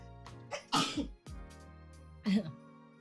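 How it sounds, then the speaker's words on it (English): A single sharp sneeze near the microphone, followed by a short sniff or throat sound, in an otherwise quiet room. "excuse me, I have to sneeze."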